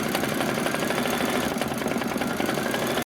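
A sewing machine stitching a tack down on leather, running with a fast, even mechanical rhythm that holds steady and loud before stopping abruptly.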